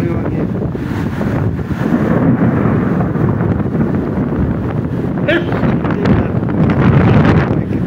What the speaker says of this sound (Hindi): नीचे देखो बहुत जोर की बारिश है, हवा भी बहुत जोर की चल रही है